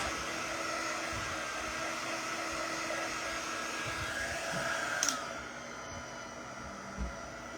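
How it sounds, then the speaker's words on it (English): A heat tool blowing warm air to dry a tote bag, a loud continuous whooshing hum close by, holding steady with a brief click and knock near the end. "it is warm and it blows warm air. And I'm going to go ahead and dry this."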